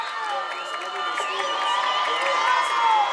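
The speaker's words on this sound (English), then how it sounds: "Crowd getting into it." High school football crowd cheering and shouting in the stands, a loud sustained roar with whoops and raised voices swelling toward the end.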